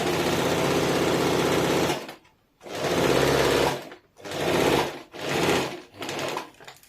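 A sewing machine stitches curved-cut cloth for palazzo pants: one long loud run of rapid stitching, then four shorter bursts with brief silences between them as the fabric is turned, close by with no speech.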